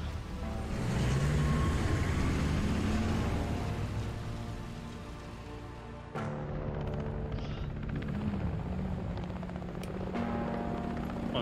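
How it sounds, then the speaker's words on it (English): A police helicopter trailing a car in a video game, its rotor drone holding steady and loud throughout with a rushing, rain-like wash, a brief dip and shift in tone around the midpoint, no voices. "Why is there a cop chopper just following us?"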